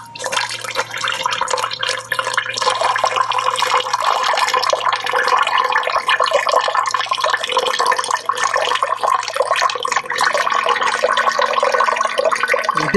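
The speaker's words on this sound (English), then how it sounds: "I'm going to pour it in the bag." Coffee poured into an enema bag, a steady close trickle and splash of liquid lasting several seconds, with a low hum in the background.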